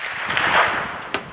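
A BSA Sweet 22 rifle fired at an outdoor range toward 150-yard targets, heard as a muffled sharp report followed by a short, fainter crack, with no voices.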